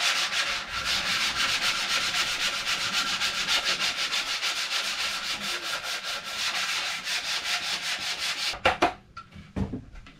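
Hand sanding of a painted surface as part of paint finishing work, with steady rhythmic back-and-forth rasping strokes close up, ending in a few scattered knocks and scrapes.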